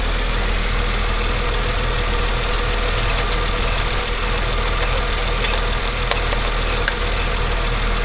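A cold Mercedes W163 engine idles steadily and loudly at close range, a constant low drone with faint ticking on top and no voices.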